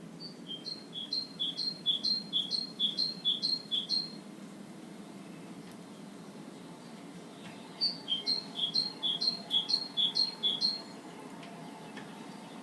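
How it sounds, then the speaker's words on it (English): A great tit sings two bouts of rapid, repeated high two-note phrases, each lasting about four seconds with a pause between them, clear but moderately distant over a low background hum and with no talking. "If you hear a bird song you can't identify, the chances are it's a great tit."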